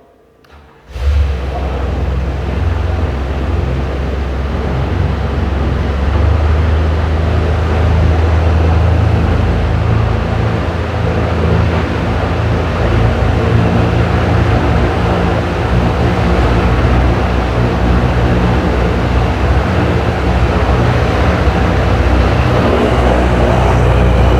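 A rebuilt Jabiru 3300 Gen 3 aircraft engine with forged pistons running in a test cell, starting after a brief quiet moment and then holding a loud, steady, close drone throughout.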